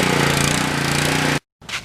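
A Simpson pressure washer's gas engine roars loud and close after a pull start, runs steadily for over a second, then cuts out abruptly before a brief faint rustle follows.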